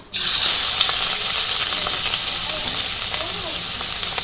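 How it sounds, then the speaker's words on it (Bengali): Fish dropped into hot oil in a karahi bursts into loud, close sizzling that starts abruptly and stays dense and crackling throughout. "তেল গরম হয়ে গেছে, মাছগুলো দিয়ে দিই।"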